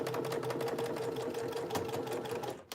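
A sewing machine stitches fabric forward and then back stitches, a steady close whirring hum running continuously before stopping abruptly at the end.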